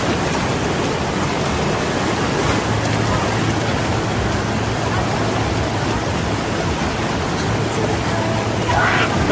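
Rushing, churning water at Sprite Falls in Majayjay, Laguna: a dense, loud, steady roar of falling and bubbling water that fills the whole stretch, with no break.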